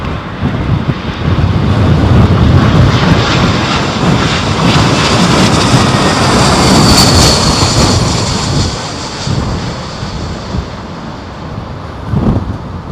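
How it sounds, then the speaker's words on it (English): During Storm Henk, an airplane approaches Heathrow Airport with a loud, continuous jet engine roar mixed with gusting wind buffeting the microphone. The roar swells and fades slowly over the whole stretch. "Some very nervous people on board this aeroplane right now."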